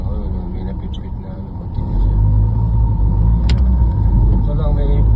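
Road traffic at a long stoplight interval: a loud, steady rumble of cars and engines builds up and continues throughout, close by, with a voice talking over it.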